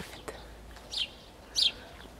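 A small bird in a rural village garden gives two short, high chirps about half a second apart, moderately distant over a quiet outdoor background.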